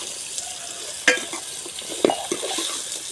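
Onions and mango pieces frying in a pan give a steady sizzle, with a couple of sharper scraping stirs as a spoon moves through them, close and without talk.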